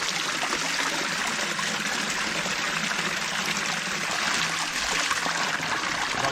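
Spring water gushes and splashes steadily in a continuous, full rushing flow, heard close and with no pauses, near a lanzones orchard in a rural barangay.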